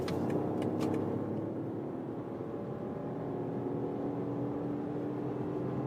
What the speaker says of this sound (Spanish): Este tramo de autobahn es sin límite de velocidad si el tráfico lo permite, y salimos ahora desde 115 km por hora.